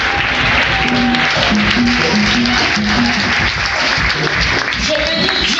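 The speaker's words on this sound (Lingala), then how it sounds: "Nous allons acclamer pour ces grands hommes" A congregation at a church pastor's anniversary celebration in Orléans applauds and cheers in a loud, continuous roar, with voices calling out and singing tones rising over the clapping.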